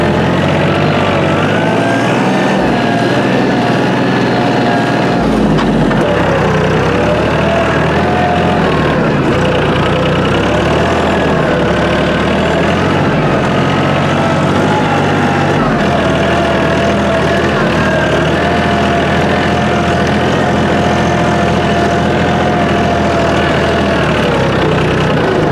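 A Mahindra Oja 2127 tractor running in gear, with a loud, close, continuous diesel drone whose pitch shifts slightly as the revs change, without a break throughout.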